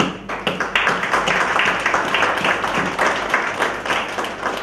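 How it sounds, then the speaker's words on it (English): Audience applause at a national conference on climate change and sustainable development, a steady wash of hand clapping with distinct claps throughout, fairly close and continuous for several seconds with no talk. "please give a tremendous applause to Professor Deshpande, our guru."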